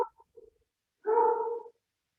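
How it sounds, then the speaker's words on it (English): Neighbor's dog heard once with a single clear bark-like yelp at mid-distance, a short tonal burst lasting under a second after a few faint small noises, no talking. "I hope the neighbor's dog is not making a voice cameo here"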